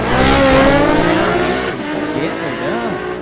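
A 1250cc Harley-Davidson Sportster drag races at Mission Raceway Park, its loud engine roar close at first and then fading, with wavering pitch sweeps from other engines at the track.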